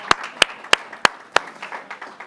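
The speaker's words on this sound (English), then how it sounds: "let's give her a big round of applause" Applause from a workshop audience in a room, heard as a handful of sharp, separate claps spaced about a third of a second apart rather than a full sustained ovation, fairly close and alone without talk.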